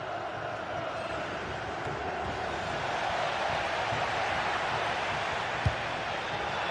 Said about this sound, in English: Lookman being egged on by the crowd.